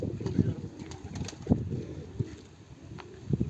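Fantail pigeons in a loft, soft low cooing close by with faint chirps and a wing flutter, all under a steady background murmur.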